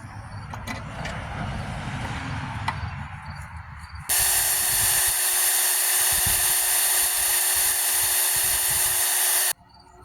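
Rustling handling noise, then a power drill whines steadily at high speed for several seconds, drilling holes to mount a battery disconnect switch on a Ford 3000 tractor, before stopping abruptly.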